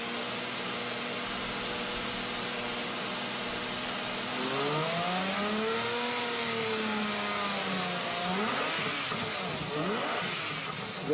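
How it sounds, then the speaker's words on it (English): A Lamborghini V12 sports car engine idles with a steady hum, then revs up and down in rising and falling sweeps, growling loudly up close. "the only music you're gonna want to hear is the song coming from that engine"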